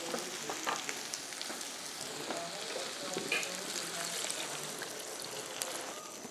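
Vegetables frying in a pan with water being added, giving a dense, steady sizzle and hiss that stays constant and close, with faint scraping of a stirring utensil throughout.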